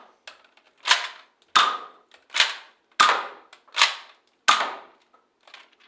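A Nerf Quadrant blaster fires AccuStrike waffle-head darts at a nearby wall, giving six sharp, close pops about two-thirds of a second apart, each with a brief rattling tail, with no talking.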